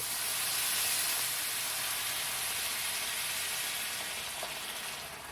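Onions frying in a pan as beef broth pours in, a loud broad sizzling hiss that holds steady, then eases slightly toward the end, close with no speech.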